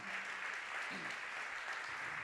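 Church congregation applauding together during a Spanish-language sermon, a steady wash of clapping that holds evenly throughout with a faint voice underneath.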